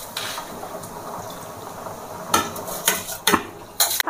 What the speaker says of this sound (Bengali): এবার আমি যে চালটা ভিজিয়ে রেখেছিলাম চালটা দিয়ে দেবো।